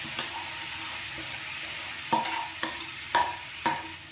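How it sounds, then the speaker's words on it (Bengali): Boiled drumstick flowers fried with spices in a pan, a soft steady sizzle broken by several sharp scrapes and knocks of a spatula stirring against the pan, close and without talk. "সুন্দর করে নেড়ে এটাকে ভাজা ভাজা করে নিতে হবে।"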